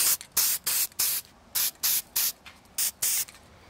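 Aerosol spray paint coats screws stuck upright in a piece of cardboard, hissing in about nine short, close bursts separated by brief pauses, with no talking.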